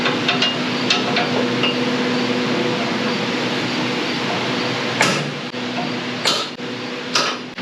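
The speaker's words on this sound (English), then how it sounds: "I'm going to do my best to get a punch in there and at least get a small divot made" A center punch is hammered into metal: several sharp metallic strikes ring out over a steady mechanical hum, a few scattered light taps first, then three louder hammer blows near the end.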